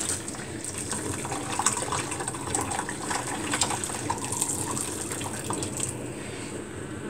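Hot liquid pours out gently and steadily while herb fromage frais is being made, a soft continuous splashing and trickling with small bursts, fairly quiet and close, with no talk.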